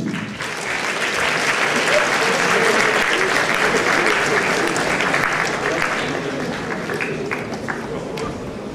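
Sustained applause rises from an audience at a photo contest award ceremony as winners gather for a group photo, a dense steady clapping that swells and then gradually thins out, with some talk mixed in.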